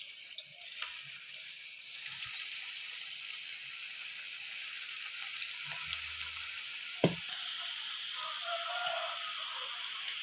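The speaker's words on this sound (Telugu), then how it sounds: "ఇప్పుడు విడివిడిగా ఒక్కొక్క ముక్క వేసుకోవాలి ఆయిల్లో." Cauliflower pieces for gobi manchurian are dropped one at a time into hot oil and fry with a steady soft sizzle, punctuated by occasional faint clinks.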